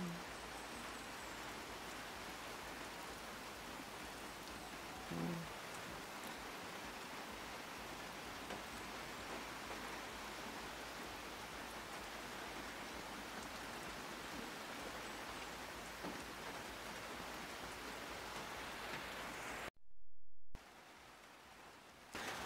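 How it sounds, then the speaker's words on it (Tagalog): Steady, soft rainfall hisses continuously in the background, with a few louder drips standing out and a brief dropout near the end. "Kasi umuulan dito."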